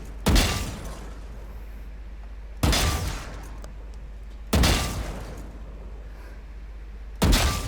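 Video game gunfire while aiming for headshots: four loud, booming single shots spaced about two seconds apart, each with a sharp attack and a short echoing decay, with no talk.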